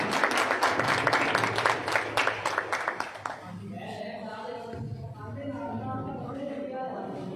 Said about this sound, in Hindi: आवाज आ नहीं रही किसी की, तालियां तो बजा दे जी।